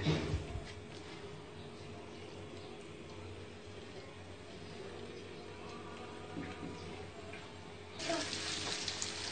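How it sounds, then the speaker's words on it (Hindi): Chapli kebabs fry in a little oil in a pan with a continuous, even, hissing sizzle up close, swelling a little louder near the end. "अब हम इसके ऊपर कबाब इस तरीके से फ्राई करेंगे।"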